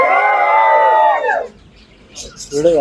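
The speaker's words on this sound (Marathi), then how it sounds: "ही आहे आपल्या पेट्स कार्निवलची संपूर्ण टीम आणि हा आहे त्यांचा जल्लोष" At a pet carnival held at an expo, the team lets out a loud, sustained group shout in unison that glides down and fades. Brief scattered voices follow after a short lull.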